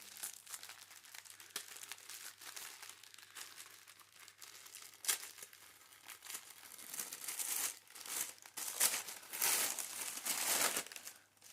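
Crinkly wrapping paper being torn open on a day-24 advent calendar package holding a 50-gram ball of yarn. Close, uneven rustling and crackling grows busier and louder toward the end.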